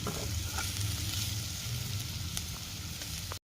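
Ivy gourd (dondakaya) pieces frying in a pan for a village-style fry, a steady close sizzle and crackle running evenly throughout with no voices.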